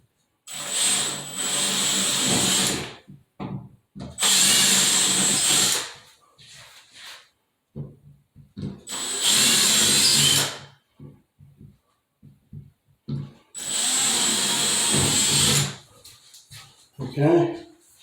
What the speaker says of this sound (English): we're going to take and drill our holes